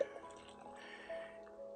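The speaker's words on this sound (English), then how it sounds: "oh, look at that, the perfect pour." Fresh carrot and apple juice pours steadily into a glass, a soft, continuous liquid trickle with a faint drip at the start, quiet and close.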